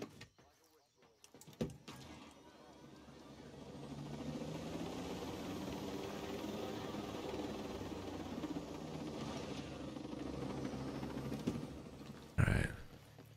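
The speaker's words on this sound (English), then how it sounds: "Hop in the helo and fly down that way a little bit quicker" A helicopter flies in the military shooter Ghost Recon Breakpoint: a steady, droning rotor hum builds and holds through most of the stretch, with a voice talking over it and a sharp thump near the end.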